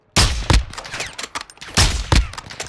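Gunfire in Call of Duty, two close, loud bursts of rapid automatic shots, each a tight cluster of sharp cracks, separated by a short pause.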